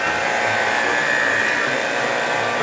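A hand mixer mashing potatoes for Thanksgiving, producing a loud, steady motor whir that holds constant throughout with no pauses or talk.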